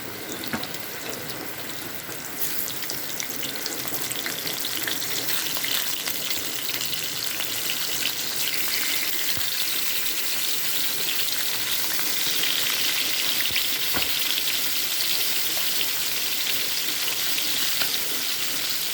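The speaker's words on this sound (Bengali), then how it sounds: "এই মাছগুলি ভেজে নিয়ে মাছগুলি ভেজে তারপরে রান্না বসাবো" Pieces of rohu fish fry in a pan with a continuous, even sizzle and crackle that holds steady throughout, close and moderately loud, with no talking over it.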